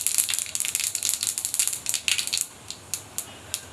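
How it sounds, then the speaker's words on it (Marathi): Half a teaspoon of mustard seeds crackles and pops in very hot oil, a rapid burst of sharp snapping pops for about two seconds that thins to scattered, sparser crackles. "मोहरी छान तडतडली"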